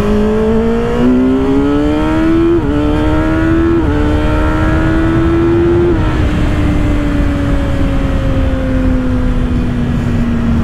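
A 2024 Kawasaki ZX-6R Ninja motorcycle accelerates hard using its quick shifter. The loud, close engine rises in pitch and drops sharply at several quick upshifts, then holds a steady drone as the ride continues.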